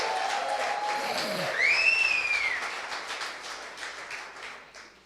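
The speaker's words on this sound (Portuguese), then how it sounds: "Eu fosse você, eu dava um aplauso a Jesus" A church congregation applauds during a sermon, a moderate wash of clapping hands that swells briefly, then gradually fades, with a brief high whistle-like tone rising and falling over it.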